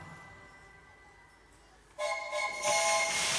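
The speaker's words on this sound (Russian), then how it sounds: "Вагоны за собой по рельсам потащил, как мощный великан веселый паровоз" A steam locomotive sound effect at a children's New Year tree show: quiet hiss at first, then a sudden loud blast of whistle tones and rolling rail noise that swells further near the end.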